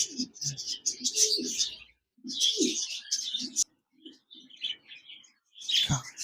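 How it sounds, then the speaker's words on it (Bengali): A pair of albino red-eyed budgerigars chatter close by in a cage, with bursts of warbling chirps and squeaks broken by short pauses. "এক জোড়া অ্যালবেনো রেড আই বাজরিগার পাখি রয়েছে রানিং পেয়ার"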